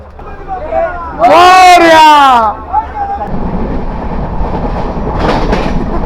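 Passenger train near Sawantwadi, heard as a loud rising and falling tonal horn-like blast over nearby voices, then a steady broad rolling rumble that continues to the end.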